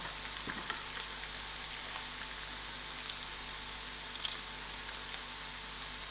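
Mustard seeds crackling in hot oil in a pan, a steady, faint sizzle with scattered small pops throughout.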